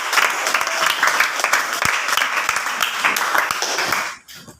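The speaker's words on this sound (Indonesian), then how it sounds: "tepuk tangan buat kelompoknya Dayu." Sixth-grade pupils in a classroom applaud a group, with dense, steady clapping from many hands for about four seconds before it stops abruptly.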